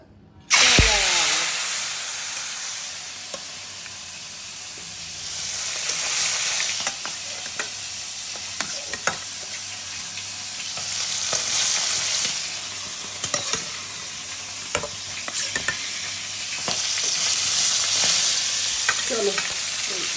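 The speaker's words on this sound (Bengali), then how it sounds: "বুঝছো চলো কড়াই বসিয়ে দিলাম মাছগুলো এবার ভাজবো" Fish frying in hot oil in a wok on a home stove, with a loud, steady sizzle that swells and fades over about twenty seconds, broken by scattered clicks and spatters.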